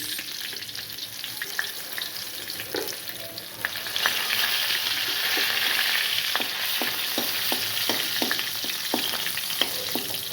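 Curry leaves and green chillies sizzle in hot frying oil, a loud steady crackling hiss that swells midway, with repeated sharp spatters and pops and no talk.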